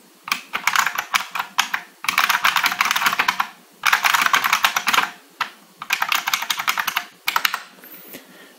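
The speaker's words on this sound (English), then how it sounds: "Let me type on it so you can get a sense of how it sounds and feels." Loud, clicky typing on a Unicomp Ultra Classic Model M buckling spring keyboard in several quick bursts separated by short pauses, each keystroke sharp and distinct, close up with no talking.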